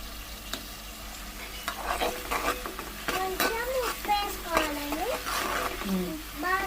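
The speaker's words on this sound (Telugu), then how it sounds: "ఇప్పుడు మనం నూనె కాగాక ఆనియన్స్ వేసుకోవాలి" Onions frying in hot oil with a steady sizzle while a spoon stirs and scrapes the pan, a voice speaking over the cooking throughout.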